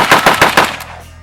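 Rapid rifle fire from an AK-pattern rifle at a shooting range: four or five loud, close shots in a quick, even burst, then a short fading echo.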